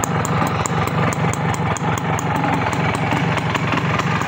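A balancer-equipped motorcycle idles up close at a bike market, giving a loud, even, rapidly pulsing engine rumble with no breaks and no talk.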